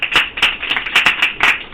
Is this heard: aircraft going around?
no